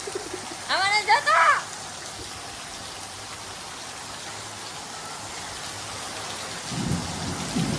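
Heavy rain pours steadily as a broad, constant hiss, with thunder rumbling low near the end; voices speak briefly early on.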